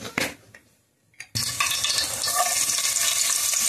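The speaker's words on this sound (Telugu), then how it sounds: "ఉల్లిపాయలు అయితే వేస్తున్నానండి. ఉల్లిపాయలు, పచ్చిమిరపకాయలు బాగా నూనెలో వేయించుకొని" Onions and green chillies hit hot oil with a sudden loud sizzle after a few quiet clatters, then a steady close hiss of frying continues to the end.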